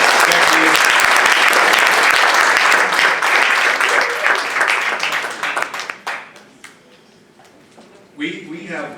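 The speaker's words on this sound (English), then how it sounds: "Let's give them a round of applause for sharing." An audience applauds after presenters share at a leadership Q&A event, with dense clapping that thins into scattered claps before a voice speaks briefly at the end.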